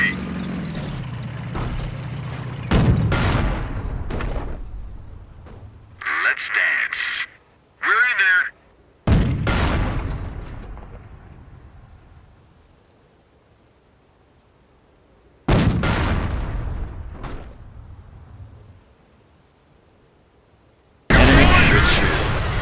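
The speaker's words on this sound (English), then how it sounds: "That shot from the Panzer scored a critical hit and has immobilized your tank." Tank cannon shots and explosions from the Company of Heroes strategy game, with a Panzer scoring a hit, come as loud sharp bursts spread through the stretch, separated by quieter rumbling gaps, with game voices speaking in between.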